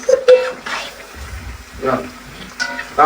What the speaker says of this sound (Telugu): ఇప్పుడు ఎందుకు కలుపుతున్నావు?